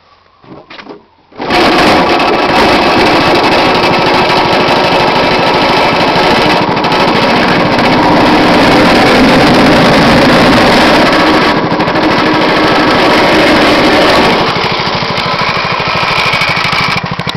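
A go-kart engine starts after a moment of quiet, then runs loud and close with a harsh, buzzing rattle, the throttle opened for steady revving before it eases slightly near the end.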